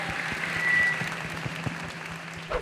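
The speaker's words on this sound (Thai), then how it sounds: "ขอเสียงปรบมือต้อนรับคุณหมอพันศักดิ์สุนเริศครับ" A studio audience applauds to welcome a guest doctor onto a Thai talk show, a steady patter of clapping of moderate loudness that swells briefly and then carries on.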